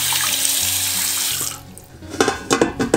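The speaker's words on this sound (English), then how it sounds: "And then I just rinse off any residue." A running tap rinses residue off a Berkey water filter's carbon element, a loud steady gush of water that then cuts to splashy, intermittent rinsing bursts against the filter.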